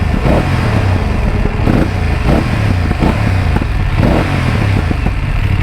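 A BMW 850GS motorcycle engine revs loudly and steadily close by, its throbbing exhaust pulses and mechanical rattle filling the whole stretch with no talking.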